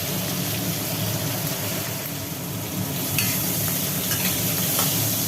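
Black cumin and tomato fry in a pan with a continuous, fairly loud sizzle and crackle, stirred now and then. The sound stays steady with no voices.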